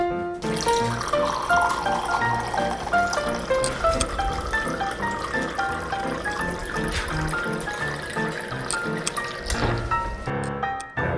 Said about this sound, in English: Filling a cup of water.